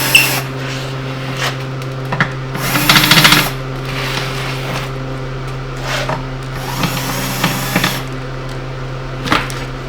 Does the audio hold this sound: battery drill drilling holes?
yes